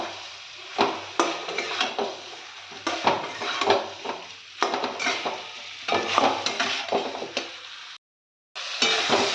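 Fish pieces fry in a pan with a steady sizzle while a utensil stirs and scrapes in frequent clattering strokes, close and busy, with a brief silent gap near the end.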